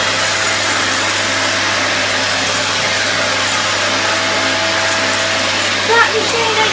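A Hoover Spirit S3261 upright vacuum cleaner with the hard floor head fitted runs with a steady, loud motor drone and constant airflow hiss throughout, a brief bump near the end, with voices faintly under it.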